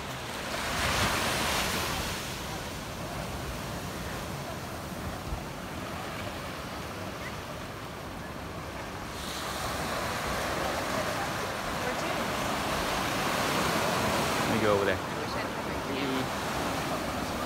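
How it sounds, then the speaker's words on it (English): Ocean waves roll onto the sand at Treasure Island Beach, a steady broadband surf wash with swells building and receding, wind buffeting the microphone throughout and faint voices mixed in. "We are on the beach."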